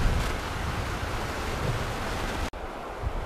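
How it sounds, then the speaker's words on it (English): White water rushing in Burro Creek, a steady broadband roar of flowing water heard from a distance, constant and moderately loud with a brief dropout near the end. "We get a little white water going on down there."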